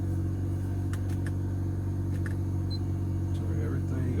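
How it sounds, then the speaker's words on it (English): 2012 Acura RDX Turbo with a modified exhaust idling after a cold start, a steady low rumble throughout with a few faint clicks, close and moderately loud. "I'm trying to let y'all hear the exhaust. This is a cold start this morning."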